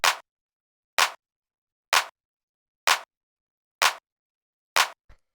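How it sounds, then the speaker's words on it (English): A punchy clap sample in a driving techno track strikes six times alone at an even, steady interval, each hit short, sharp and bright with a quick decay and nothing playing between. "it's just a nice punchy clap on the 2 and 4"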